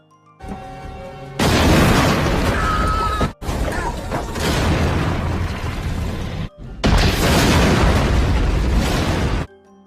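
Several loud, roaring explosions follow one another, each a long rumbling blast separated by brief gaps, close and overwhelming, in the Indonesian war film Darah Garuda.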